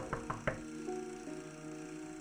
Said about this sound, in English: Once he dozed off, he heard a knock on the door.